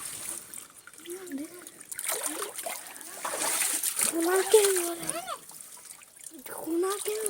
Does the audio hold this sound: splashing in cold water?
yes